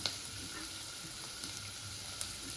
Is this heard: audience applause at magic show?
no